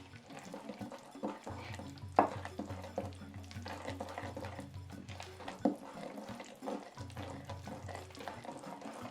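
Vegan chocolate cupcake batter is stirred gently in a bowl, with soft scraping and wet folding strokes, a couple of sharper knocks against the bowl, and a low hum running beneath.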